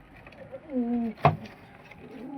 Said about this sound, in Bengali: আসুন আপনাদের নর আর মাদিটাকে দেখাবো, তারপর আপনাদের আরও আমাদের অন্য পায়রাদের দেখাবো